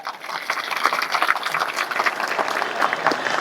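A crowd claps together at a Hindu religious sermon, a dense, steady patter of many hands that carries on evenly for a few seconds, fairly close and without talk.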